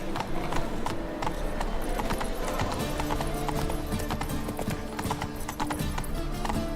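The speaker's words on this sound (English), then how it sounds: "Run, Roach" Horse hooves clip-clop in a steady galloping rhythm in The Witcher 3, with occasional whinnies over dense game music and ambience throughout.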